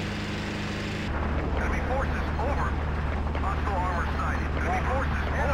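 Helicopter in a multiplayer war video game passing over a no man's land near Daqing, a steady rotor drone with a sharp rise about a second in, mixed with game noise and players talking over it.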